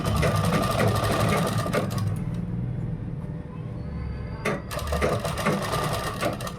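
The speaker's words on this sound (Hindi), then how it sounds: "यहाँ से इस तरह से हम इसकी सिलाई लगाएंगे" Electric sewing machine stitching kurta fabric, a steady close whirring hum with a brief pause midway before the stitching resumes.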